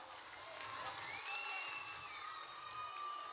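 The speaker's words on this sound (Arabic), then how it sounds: "عطيوني تصفيقة حارة" An audience at a live stage event applauds and cheers, a dense and steady wash of clapping and crowd noise that lasts throughout.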